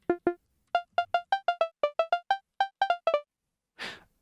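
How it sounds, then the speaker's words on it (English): Short punchy psytrance snare punch layer synthesized in Sytrus, struck about sixteen times in a quick, uneven rhythm, each hit a bright tonal burst with a clipped tail, closing on a single noisy hit. "So when we play the punch layer,"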